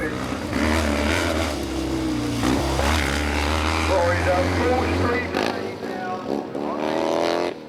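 Old British motocross bikes racing on a track, engines revving and droning loudly in overlapping passes with rising and falling pitch, people talking over the engine noise.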